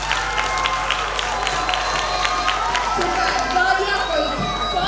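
Audience at a children's and youth singing show bursts into sustained applause for a child, dense clapping mixed with cheering and a few shouts, steady and close throughout.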